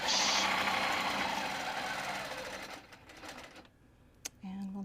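A sewing machine stitches along a quilting ruler, a fast rattling hum that gradually slows and fades, followed by quiet, a sharp click and faint talking.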